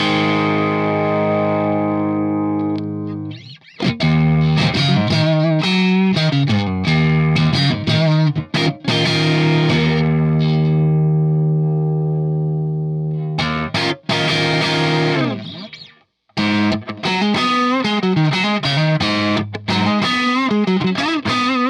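An electric guitar played through a Sinvertek CKK SHXC distortion pedal rings out in thick, saturated sustained chords and riffs, loud and close, with a brief gap before the playing resumes.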